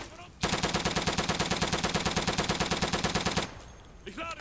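German machine gun in the World War II video game Day of Infamy firing one sustained, rapid, loud burst of about three seconds, followed by brief quieter background sounds.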